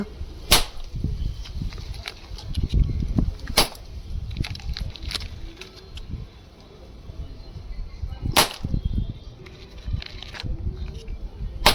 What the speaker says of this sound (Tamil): அதுக்கடுத்து வந்து குச்சி வெடியை ட்ரை பண்ணலாம்